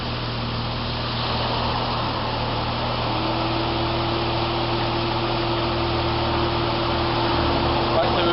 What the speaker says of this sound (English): We've got the engine cooling fan on.